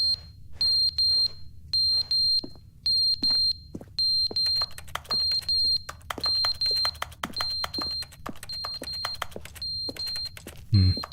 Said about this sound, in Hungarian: Ez a tűzjelző?